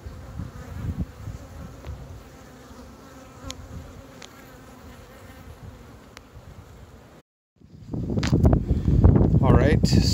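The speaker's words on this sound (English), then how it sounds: "What a great lot of bees." Honey bees buzz densely around an opened spring hive during an inspection of brood frames, a constant swarm hum with brief louder bursts near the end as bees fly close.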